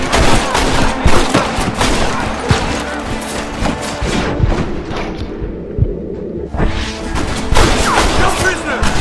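Dense, continuous gunfire from a Red Dead Redemption shootout, rapid overlapping shots and impacts packed throughout, with shouting voices mixed in under the barrage.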